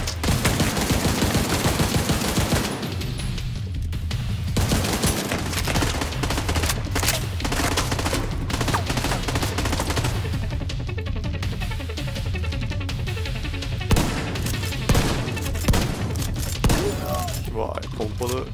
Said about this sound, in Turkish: Vay, pompalı iyi iş yaptı.